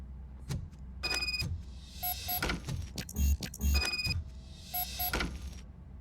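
A locked door being tried in the video game RoboCop Rogue City: several short clunks and rattles of a handle, with mechanical clicks and thumps in a game setting, fairly close.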